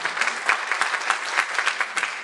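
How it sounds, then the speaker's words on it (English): An audience applauds precinct organizers at a forum for North Carolina Republican Party vice chair candidates, giving a steady, dense round of clapping from a room-sized crowd that continues throughout without any talking. "go ahead and applaud them"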